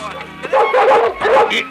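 A newly acquired dog straining on its leash yips and barks in short, close bursts during a Tamil comedy film scene, mixed with voices.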